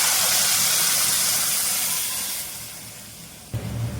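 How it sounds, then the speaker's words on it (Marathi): Toor dal added to hot tempering gives a loud, dense sizzling hiss that slowly fades, followed by a fresh burst of sizzle, with no voices. "आता बघा हे डाळ आपली त्यामध्ये टाकून घेऊया फोडणीमध्ये"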